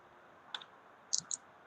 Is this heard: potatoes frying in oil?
no